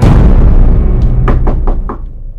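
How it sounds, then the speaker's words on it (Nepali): Someone knocks on the door of a house: four or five sharp, close knocks in quick succession, following a stretch of louder background noise. "आफ्नै घरमा पाहुनाले जस्तो ढोका ढकढकाइरहेको रहेछु"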